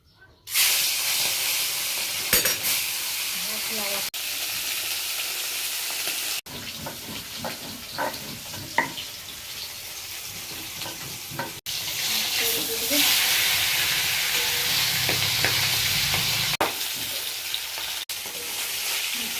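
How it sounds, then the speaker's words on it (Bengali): A ground paste of ginger, cumin, garlic and onion frying in oil in a kadai, giving a continuous loud hiss and sizzle in several takes separated by abrupt cuts, with faint clinks and no talk. "আদা, জিরে, রসুন, পেঁয়াজ সব একসাথে বেটে নেব। এখন ভেজে নেব।"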